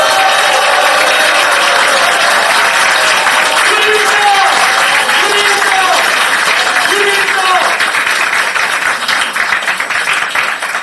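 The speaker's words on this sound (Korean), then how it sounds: "뜨거운 박수 부탁드리겠습니다" An audience at a Korean election campaign office event for a Gangseo district mayoral by-election gives sustained, loud applause that fills the room for about ten seconds, with scattered cheers mixed in.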